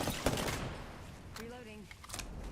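Rapid gunfire bursts in the battle-royale shooter Apex Legends, loud crackling volleys at the start and again near the end, with a brief in-game voice line and tonal effects in between.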